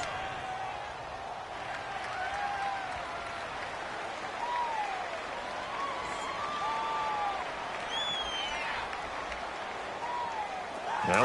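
Stadium crowd roar from a PS4 football video game, a steady loud wash of cheering and whistles filling the whole stretch, swelling near the end, with a voice speaking over it.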